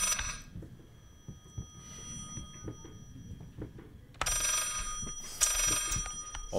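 A telephone rings in the horror video game Layers of Fear, a bright, metallic ringing burst at the start and then a longer, louder ring after a quiet stretch of low rumbling ambience.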